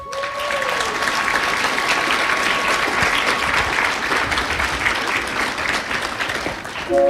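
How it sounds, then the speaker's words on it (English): A graduation audience at a high school commencement applauds in a long, sustained round of many hands clapping, loud and full, fading slightly near the end. "We want to give Christina a bigger round of applause."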